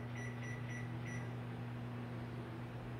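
A Samsung microwave oven runs on a three-minute setting, giving a steady low electrical hum throughout, with a few short electronic beeps near the start and no talking.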